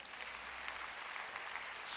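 Church congregation applauding, a brief burst of many hands clapping at moderate distance, fairly soft and steady.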